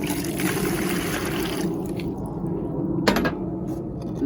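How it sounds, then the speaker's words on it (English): Water poured into a bucket to mix insulation adhesive for sticking insulation on the outside of a house, a close, continuous splashing trickle that thins out midway, with a brief knock near the end. "So I put the water in here."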